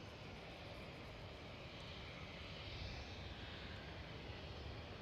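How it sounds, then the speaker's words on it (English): A KLM Boeing 737 airliner at Amsterdam Schiphol airport gives a steady, distant jet engine roar that holds at a constant level throughout, with no talk. "Alright, KLM 737."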